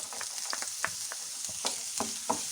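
Onion frying in hot oil in a home kitchen pan, a continuous close sizzle with small pops and stirring clicks rising above it, no voices.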